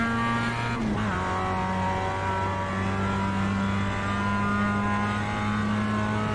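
A race car in iRacing drives slowly with a steady, close engine hum full of clear harmonic tones, and the pitch shifts once early on before holding even.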